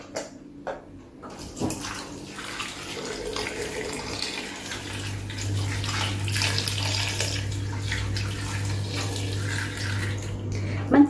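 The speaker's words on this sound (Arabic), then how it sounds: "هنا نحطو البطاطا في لاكوكوط ونديرو لها الماء." Tap water pours steadily into a cooking pot holding potatoes, a continuous close splashing rush that swells and stays strong for most of the stretch, with a clunk near the start and no speech.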